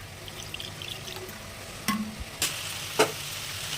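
Water is poured into a hot frying pan of tomato, mustard and cumin paste, giving a steady sizzle with a few sharp bursts and clinks of stirring.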